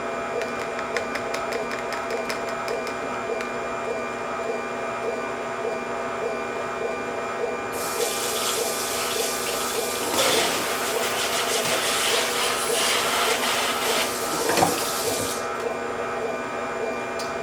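An AMZCHEF slow juicer runs steadily at close range with a constant motor whir and grinding hum, joined midway by louder hissing, rattling noise before settling; no one speaks.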